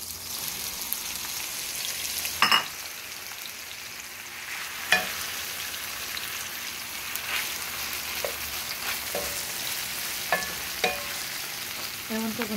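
Bitter gourd fries in a hot pan with browning ingredients for a red snapper paksiw, giving a continuous soft sizzle broken by sharp clinks and stirring knocks.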